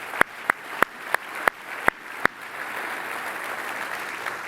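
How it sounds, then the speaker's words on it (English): An audience at a Walmart Open Call event starts applauding after several sharp, separate claps; by the end it is a steady wash of moderate applause with no talking. "One more round of applause for Lifetime."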